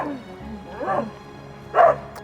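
An aggressive dog lets out two short, gruff barks about a second apart, moderately close, with a brief whine between them.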